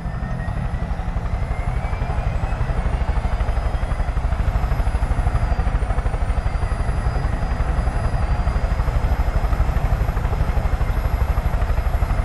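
A helicopter flies in the Far Cry 5 video game, its steady, loud rotor thump and engine whine holding close and constant throughout with no voices over it.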